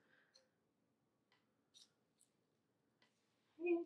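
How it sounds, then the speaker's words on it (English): Scissors snipping a length of quilting ribbon in half, a few faint, sparse clicks and snips in a quiet room, ending with a short louder voice. "snip it in half with some scissors"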